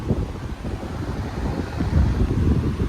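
A 20-inch yellow high-velocity fan runs close by with a loud, steady whooshing rumble of moving air. The sound is low and turbulent and swells slightly toward the end.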